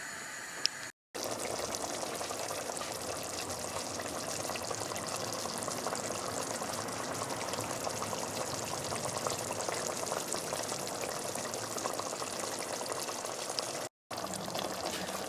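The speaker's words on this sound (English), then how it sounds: "the lid back on and let them simmer for about good 30 minutes" Kofta meatballs simmering in masala curry sauce in a covered pot, a steady soft bubbling hiss that runs evenly throughout with two brief dropouts, no talking.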